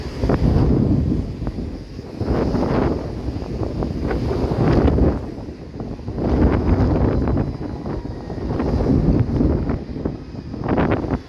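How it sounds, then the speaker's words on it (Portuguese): Strong wind gusting across an outdoor pool area at a convention center in Recife, buffeting the microphone in loud rumbling surges that rise and fall every couple of seconds, with no clear speech. "o vento tá tão forte que lá embaixo ela tá escapando a água"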